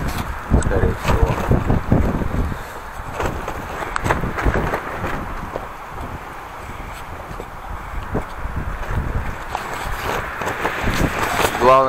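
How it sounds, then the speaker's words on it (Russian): Strong seaside wind buffeting a tent at Cape Happiness in southern Vietnam, a steady rough roar with gusty flapping and rattling, loud and close to the microphone, with no voices. "ветер нагнало"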